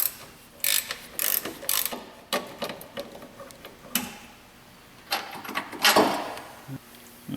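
A ratchet wrench works on transmission mount bolts of a 2011 Ford Fiesta with a DPS6 Powershift gearbox, giving short, irregular bursts of close clicking between pauses.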